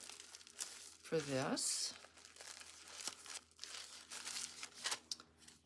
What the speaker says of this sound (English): we're going to reuse a padded envelope